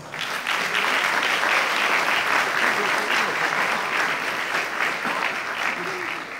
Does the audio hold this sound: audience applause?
yes